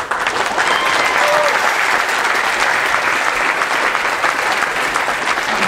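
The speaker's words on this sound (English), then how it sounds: "Please give an applause to Ariel." Conference audience applauding a speaker in Berlin, a loud, continuous wall of clapping from a large crowd that holds evenly from start to finish.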